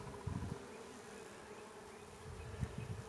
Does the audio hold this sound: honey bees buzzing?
yes